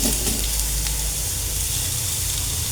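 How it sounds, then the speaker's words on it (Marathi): Chopped onion sizzles in a hot iron kadhai, a continuous dense crackling hiss with occasional sharper pops, steady and close throughout. "कढई ठेवली तापायला, आपण आता हा कांदा भाजून घेऊ।"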